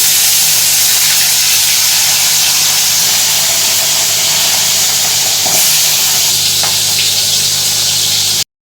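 Fish frying in hot white oil in a wok, a loud, dense, continuous hiss and crackle holding steady up close until it cuts off abruptly at the end.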